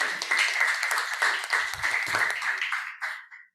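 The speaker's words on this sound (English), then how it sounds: "So let's applaud them as well" Applause from a conference audience, steady dense clapping that swells and then tapers off near the end, moderately loud with a faint voice or two underneath.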